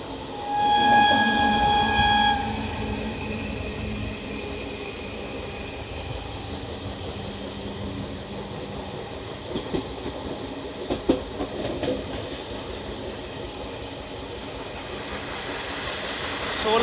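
A Solapur–Mumbai Vande Bharat Express rushes past on a triple-line section toward Lonavala, a steady loud rolling roar with a brief horn tone near the start and faint rattling clatter throughout.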